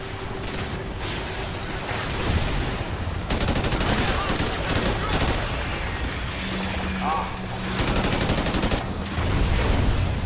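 Heavy gunfire from big guns in Call of Duty: Ghosts, a dense, continuous roar of shots and booms under faint mechanical clatter, loud and steady throughout with brief gaps.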